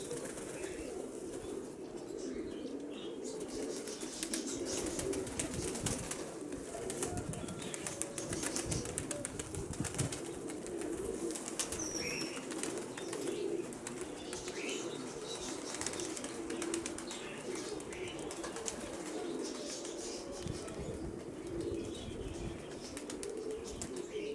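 Pigeons in Mykolaiv coo in low, continuous murmurs while wings flap in scattered bursts, with a few chirps over the close, busy flock.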